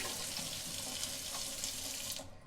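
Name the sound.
water flushing through a Lindr beer cooler line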